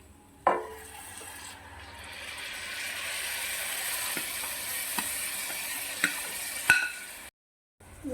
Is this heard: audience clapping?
no